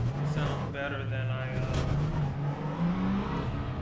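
Engine of an LMP3 prototype race car in the sim game Le Mans Ultimate, a steady droning note rising and falling with revs, running continuously beneath someone talking over it.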